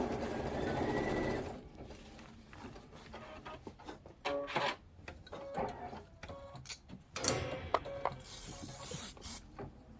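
Mechanical whirring and rapid stitching of an embroidery machine running in bursts on green felt, with a hiss of spray adhesive near the start and short pauses between runs.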